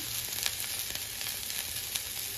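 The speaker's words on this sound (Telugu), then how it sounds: "ఇవన్నీ బాగా ఫ్రై చేసుకోవాలి" Green chillies, onions, garlic, ginger and curry leaves frying in oil for gobi manchurian, a soft, even sizzle with a couple of faint stirring scrapes, fairly quiet and without voices.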